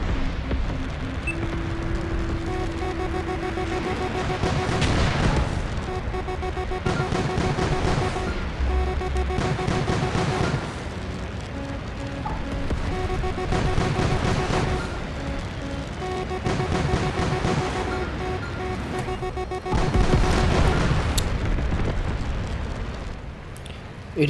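Air combat in a jet fighter game with an F-111, MiG-23 and A-4 in play, bursts of cannon fire and dull explosions rumbling over a steady engine drone, with several heavier blasts spread across the clip and loudest near the end.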